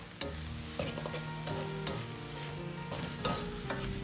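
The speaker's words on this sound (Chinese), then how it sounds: "保持中小火翻炒大概2分钟左右，炒至肘子出油脂，颜色黄亮。" Pork hock stir-fried over medium-low heat with ginger and scallion, a continuous loud sizzle with rhythmic scraping strokes of the spatula roughly every half second.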